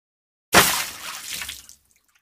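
Water is poured in a single short splashing burst that starts abruptly, gurgles for about a second and trails off into silence.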